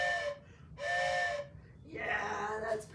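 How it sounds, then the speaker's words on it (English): Two long, loud train whistle blasts with a pause between, followed by a breathier, hissing whistle tone. "I think we need to listen to that whistle one more time"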